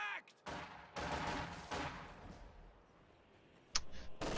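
Conscript rifle volleys ring out in a real-time strategy battle, with several sharp bursts of overlapping gunfire separated by brief pauses, followed by quieter crackles and a final loud burst near the end.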